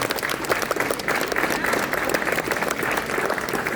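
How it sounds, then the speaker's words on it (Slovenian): Audience applause for a kindergarten children's performance at a career event opening, steady loud clapping from a crowd sustained throughout. "Mislim, da si zaslužijo še en aplavz."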